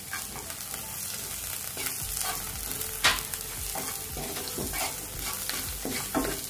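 Boiled green peas frying in a pan with salt and mixed herbs for an Indian-style red sauce pasta, giving a steady close sizzle broken by scraping stirs and a sharp clatter midway, with no talking.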